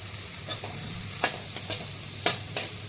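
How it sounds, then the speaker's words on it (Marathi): Chopped onion sautéing in hot oil for a Marathi tadka dahi, a faint steady sizzle broken by a few soft scrapes of stirring, with no talking. "हे छान असं परतून घ्यायचं."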